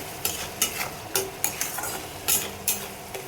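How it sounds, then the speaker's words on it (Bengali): Ginger, ground cumin paste, turmeric, salt and chilli powder fry in oil in a wok, with a low sizzle broken by regular scraping strokes of a spatula, about two per second, close and fairly loud. "এখন মশলাগুলো ভালো করে ভেজে নেব।"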